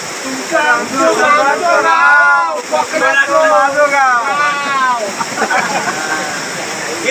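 Rautwadi waterfall at Dajipur in the Konkan hills pours in a steady broadband roar that runs through the whole stretch, with people talking loudly over the rushing water.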